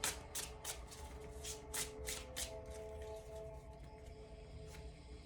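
Playing cards are handled and laid out on a surface, giving quiet rapid snapping and rustling flicks, brisker at first and then sparser. The sound is close but faint, with no voices.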